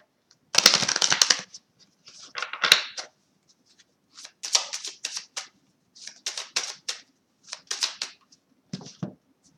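Chakra oracle cards are shuffled and drawn in several short, crisp bursts of riffling and flicking, close and clear with quiet gaps between, with no talking.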